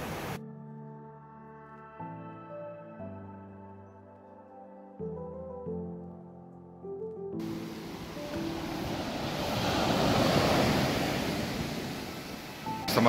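Slightly rough sea washing into Paraggi bay on the Ligurian coast, a steady broadband surf roar that swells louder toward the end, following a few seconds of tonal music.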